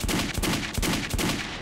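Revolver gunshots from the Metro 2033 video game, a six-chamber handgun fired in quick succession, with about four sharp reports at a steady rhythm over a dense, loud, continuous background of game noise.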